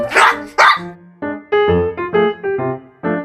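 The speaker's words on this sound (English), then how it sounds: "Golly, I was lucky to find this nice little puppy." A puppy barks in a quick string of high, yappy woofs, about eight loud, close barks in uneven bursts with short gaps between them and no talking.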